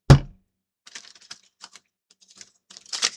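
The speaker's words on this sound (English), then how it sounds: "let me give these another different type of shuffle" Tarot cards are shuffled by hand: a thump opens it, then scattered, light papery clicks and flicks come in uneven bursts, close and fairly quiet.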